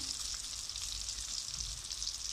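Chillies sizzle and fry steadily in hot oil in a pan, a continuous crackling hiss with faint stirring as spices are added, no voices.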